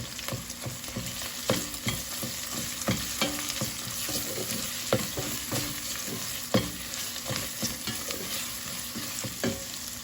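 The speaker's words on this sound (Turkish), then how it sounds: "Biber salçası ekleyelim domates salçası ekleyelim." Onion fries in a pan with pepper paste and tomato paste for a Turkish green lentil and noodle soup, sizzling steadily up close with repeated scraping stirs.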